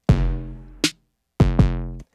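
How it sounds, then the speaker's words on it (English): A kick drum sample layered under the low end of a Nord Drum 3P, heard as three or four deep, booming drum hits with short sustains and brief gaps between them. "So I have supplemented the low end with a kick drum, and it sounds like this here."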